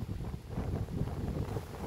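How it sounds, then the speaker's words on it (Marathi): Wind buffets across the open top of Tandulwadi hill fort in rainy, foggy weather, a low, rumbling gust-driven roar pressing close on the microphone throughout. "वारा आहे, भरपूर पाऊस आहे"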